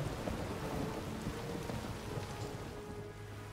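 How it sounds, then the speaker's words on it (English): Rain and thunder from The Witcher 3 game world form a steady, hissing downpour with a low rumbling undertone, continuous and fairly loud throughout, with no talking. "I'm fucking loving this rain."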